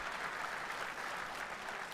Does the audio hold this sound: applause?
yes